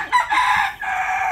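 A Rhode Island hen on a small poultry farm gives a short, close burst of clucking calls, loud and clear with no talking over it.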